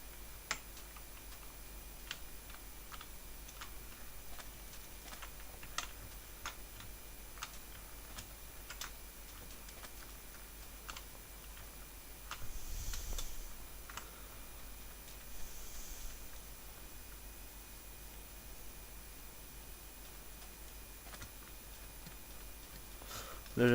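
Sparse, faint computer keyboard clicks sound during a PvP faction-server game, with single taps spaced irregularly across a long stretch over quiet background hiss and no speech.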